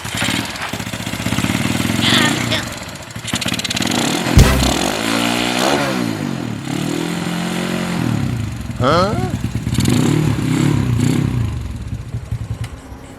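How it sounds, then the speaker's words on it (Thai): Motorcycle fitted with its stock factory exhaust runs steadily with a rough, fairly quiet engine note, a few revving surges rising and falling over the idle, with people talking alongside it. "ท่อลูกเดิมค่อนข้างจะเงียบครับ"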